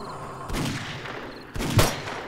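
Gunfire in a Day 91 blood moon base-defense shooter game: two short bursts of shots, the second louder, with no talk over them.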